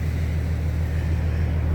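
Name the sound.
truck engine warming up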